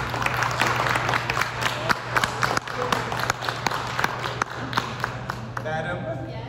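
An audience claps at a political speech to local Democrats, a dense run of sharp handclaps that stays loud for several seconds before tapering off at the end, with some voices mixed in.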